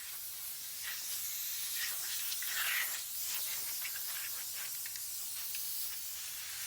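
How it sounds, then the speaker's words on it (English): Vinyl dye sprayed from an aerosol can onto a welded metal frame, a steady close hiss that runs unbroken through the whole stretch with slight swells in strength, no voices. "Spray painted it with some vinyl dye"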